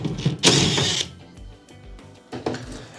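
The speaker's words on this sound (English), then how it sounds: "We're also going to remove two screws from here." Screws being backed out of an Electrolux dryer panel with a power driver, a close mechanical whir in short bursts: one loud run near the start, a few faint clicks, then another brief burst near the end.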